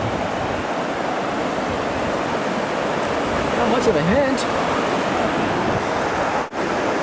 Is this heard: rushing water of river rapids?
yes